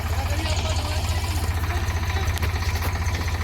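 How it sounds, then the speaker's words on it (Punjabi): A tractor engine idles and rumbles steadily, arriving to help pull a trailer stuck in a field, a continuous low throbbing drone close by with faint background noise and no clear talk. "ਚੌਥਾ ਟਰੈਕਟਰ ਆ ਗਿਆ ਹੁਣ ਉਹ ਪਰਲੇ ਪਾਸੇ ਆਉਂਦਾ"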